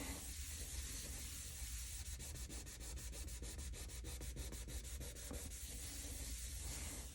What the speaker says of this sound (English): you're going to get a tissue and you're going to rub it all over the flower